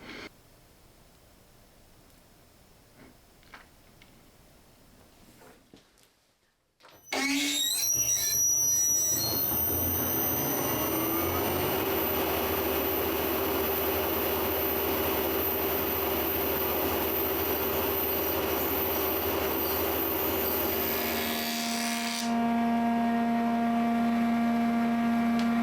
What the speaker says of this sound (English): let's do the sound test without cutting on the helical Cutterhead